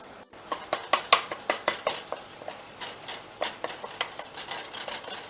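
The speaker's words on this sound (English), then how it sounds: "And you want to chop these up fine." A utensil chops hard-cooked eggs in a pan for chicken and shrimp fried rice, giving a rapid series of sharp, close metallic taps and scrapes over a faint background sizzle.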